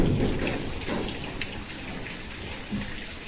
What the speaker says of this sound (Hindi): हम इसको पानी लगा रहे हैं जी